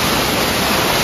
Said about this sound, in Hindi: इतना मस्त पानी चल रहा है ना सीढ़ी में